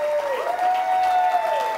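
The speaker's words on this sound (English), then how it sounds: "a nice round of applause for Mr." A circus cabaret audience applauds the performer Dean Kelly, a dense burst of clapping with a sustained whistle or held tone running over it.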